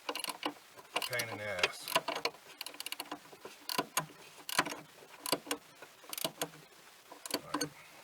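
A ratchet wrench turns a hard-to-reach bolt on a Grand Prix car's suspension, clicking in quick irregular bursts up close while a man mutters between strokes.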